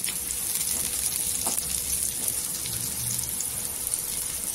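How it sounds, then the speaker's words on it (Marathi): Curry leaves sizzle and fry in hot oil, a soft continuous hiss with faint crackles and small pops throughout, close and alone. "कढीपत्ता पण छान असा फ्राय करून घ्यायचा।"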